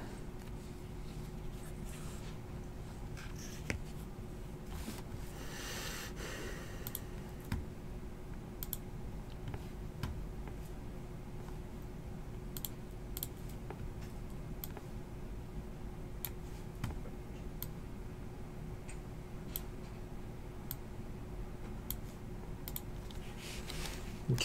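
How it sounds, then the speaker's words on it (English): Scattered clicks and taps on a computer keyboard, quiet and irregular, continuing through a long stretch without talk. "Get me a keyboard."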